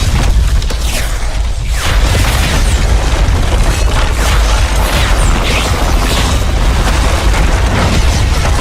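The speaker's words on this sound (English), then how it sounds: "Rocket!" A loud, rumbling rocket blast in a Call of Duty game with deep booms and mechanical clatter, sustained as a dense roar that continues for several seconds.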